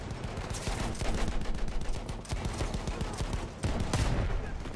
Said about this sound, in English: Field gun right now.